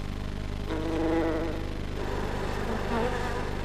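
Honeybees fly back toward their hive, making a steady, close droning buzz with several overlapping wingbeat tones that rise and fall slightly, with no voices.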